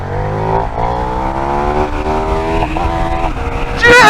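A 2024 KTM 1390 Super Duke R motorcycle accelerates gently on the road, its engine note climbing through gears with a rising, steady rumble and a brief loud burst at the end.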